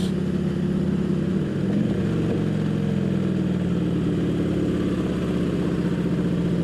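A Harley motorcycle with a super loud exhaust rumbles continuously with a deep, throaty tone, holding steady throughout with no voices.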